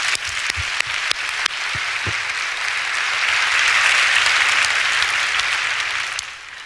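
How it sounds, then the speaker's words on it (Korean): Congregation applauding during a Sunday church service, a dense steady wash of clapping from many hands that swells slightly and then fades out at the end. "박수 한번 해주세요"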